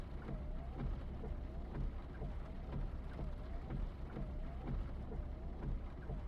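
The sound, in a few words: heavy rain in the video game Final Fantasy 7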